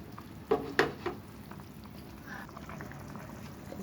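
Fried, egg-stuffed pabda fish drop into a simmering potato and pointed gourd curry, giving a few soft plops and clatters early on before a quiet bubbling simmer takes over.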